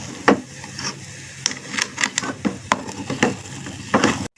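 A spoon scraping and stirring a thickening coconut milk mixture in a pan, repeated rubbing strokes at a steady uneven rhythm, close and fairly loud with no talk.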